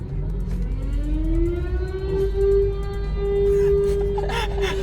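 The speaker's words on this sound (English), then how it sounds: "Now I'm going to go for a quick drive to show how the system works while driving" A car pulls away for a short drive, its engine note rising steadily from inside the cabin over a low road rumble, with some faint clatter near the end.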